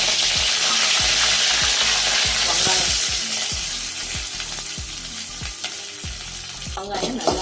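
Curry leaves crackle and sizzle in hot oil with popping mustard seeds, a dense, steady frying hiss with rapid spitting pops throughout, close and loud, with no talking.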